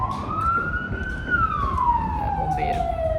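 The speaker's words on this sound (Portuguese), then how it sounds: "É bombeiro." Fire engine siren passing on a road, a loud wailing tone rising then falling in pitch as it goes by, with traffic rumble underneath and a voice speaking briefly.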